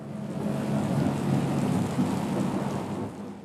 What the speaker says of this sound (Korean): 으스스한 빗소리가 커다란 빌딩을 불길하게 보이게 합니다